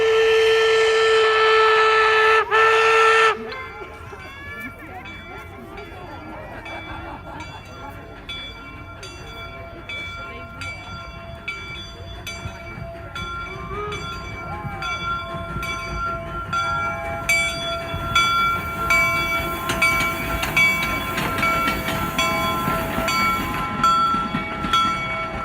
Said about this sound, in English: Now we hear a signal as the 119's coming through.